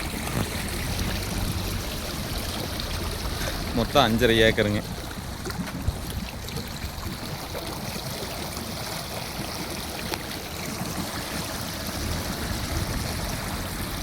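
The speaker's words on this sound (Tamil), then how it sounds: "தண்ணி இப்போ பாஞ்சிட்டு இருக்குதுங்க" Water flows steadily through an irrigation channel in a constant, rushing babble close by, with someone speaking briefly over it partway through.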